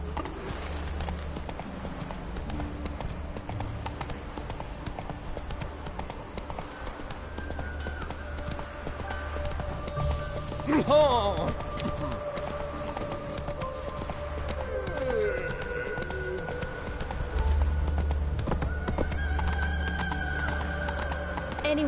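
A horse gallops in The Witcher 3: Wild Hunt, its hooves keeping up a steady, continuous clip-clop over a low rumble of ambience, with a brief whinny-like cry partway through and faint birdsong around it.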